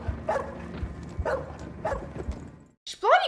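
A dog in a TV drama barks a few short yips and then whimpers in a high, strained burst, with background scene noise between the calls.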